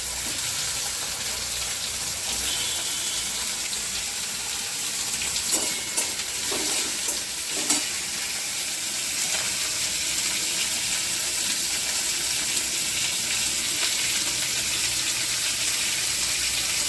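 Chopped onions added to a pan with black cumin, frying in a steady, close hiss of sizzling oil that continues evenly, with a few faint clinks in the middle.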